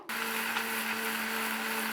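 A mixer grinder pureeing cooled tomatoes, kicking in abruptly and then holding a loud, steady high-pitched whir with a constant motor hum, close and alone.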